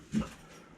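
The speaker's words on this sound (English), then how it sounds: "That's our ridiculous dog barking, as usual." A single short, muffled woof from a dog indoors in a garage workshop where a 1973 Shovelhead chopper is being readied to start, heard once, fairly faint, with no talk over it.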